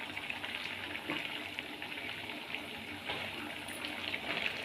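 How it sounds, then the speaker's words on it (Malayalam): Sardine and raw mango curry bubbling steadily in a pot, a continuous close, moderately loud simmer with small pops and sputters throughout. "മീനുകൾ തിളച്ച് വരുന്നുണ്ട്."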